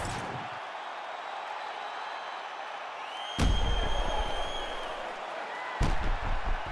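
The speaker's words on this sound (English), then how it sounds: "the crowd voicing its appreciation after that crazy sequence in the previous round" Arena crowd in the UFC 5 fighting video game, a broad steady roar of applause and cheering that swells with two sharp slam-like impacts, no talk over it.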